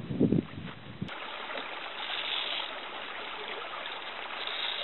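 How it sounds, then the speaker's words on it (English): Mountain creek water flows in a steady, even rush from close by, with a brief louder disturbance at the very start and no talking over it. "Just stop this creek to fill my water bladder and probably wash up a little bit,"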